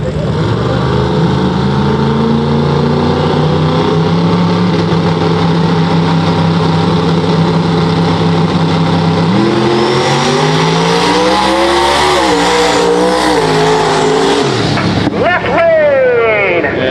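Fox Body Mustang and a small hatchback drag racing side by side on small tires at a no-prep street outlaw event, loud sustained engine roar with gear changes and rising revs, a commentator talking over it throughout.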